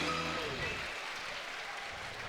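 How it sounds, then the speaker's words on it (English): A crowd at a Super Smash Bros. Melee tournament cheers and applauds in a dense, loud roar that washes over the whole moment, with an announcer's voice briefly over the start. "The crowd coming alive right now."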